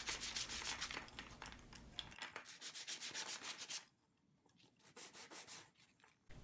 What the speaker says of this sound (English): sand the edges and faces as best I can